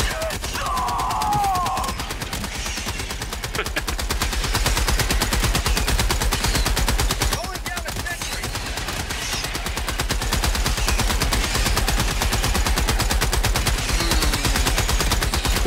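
Rapid sustained automatic gunfire from sentry turrets in the video game Helldivers 2, a dense unbroken stream of loud shots with explosive bursts, continuing nearly the whole time amid battle noise.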